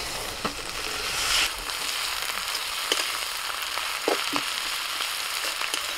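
Boiled cabbage leaves frying in a pan, a soft, steady sizzling hiss lasting throughout, with a few faint, scattered stirring clicks.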